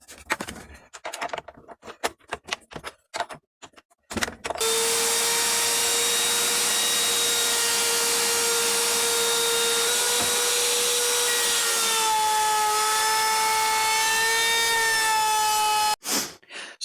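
A router cuts a round-over profile along the edge of a wooden guitar body, a loud, steady high whine holding for about twelve seconds with a slight pitch shift near the end, preceded by brief clattering handling noises.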